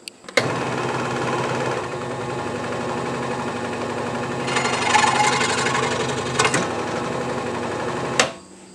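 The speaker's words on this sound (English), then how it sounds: "using that saw might not be the best idea" A power saw whines continuously while cutting small parts for building a squib, a steady buzzing drone with a brief intensified burst midway before cutting off sharply.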